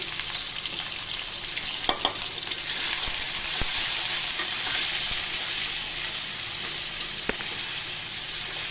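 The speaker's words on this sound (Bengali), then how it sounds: "আলুটা ভালো করে ভেজে নেব" Potatoes with salt and turmeric fry in a pan, giving a continuous even sizzle close by, broken by a few faint taps of a spatula.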